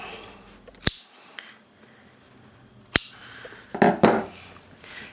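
Scissors cut back bulky seam allowance on a denim jeans waistband with a few sharp, crisp snips spaced apart, close and clear over a quiet background with faint rustling of fabric.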